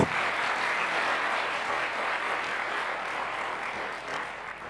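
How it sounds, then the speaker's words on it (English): Audience applause for an independent presidential candidate at a televised presidential debate, a steady, moderately loud wash of clapping from a crowd, sustained evenly and tapering slightly at the end. "let's give another warm round of applause to Dr. Japheth Kavinga Kaluyu"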